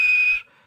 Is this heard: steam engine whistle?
yes